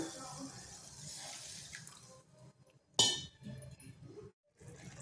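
Water and grated coconut are added to a cooking pot for a sour curry: a short splash and clinking at the midpoint, amid quieter kitchen sounds of water and utensils, with no speech.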